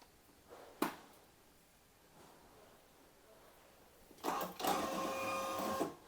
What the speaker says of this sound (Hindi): अभी जैसे मैं प्रिंट दूंगा तो देखना अभी प्रिंट निकलने लगेगा।